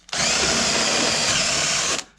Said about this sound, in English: Right, that was a 5mm with step drill.